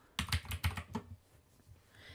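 Quick burst of computer keyboard typing, a handful of crisp clicks close by, then the keys stop and quiet background remains.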